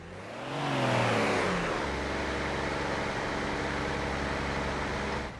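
A Mini John Cooper Works car engine in Forza Horizon 4 revs up briefly, then settles into a steady, low droning hum at low revs in top gear that continues without a break.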